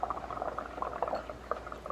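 Bubbles blown through a straw into a cup of paint water for a bubble art project make a continuous close bubbling and gurgling with little pops, steady for two seconds.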